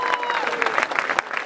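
Audience applause at a concert by a folk band playing a song from Odessa, Ukraine, a short burst of hand claps with individual claps standing out, fairly close and steady, with a trace of voices mixed in.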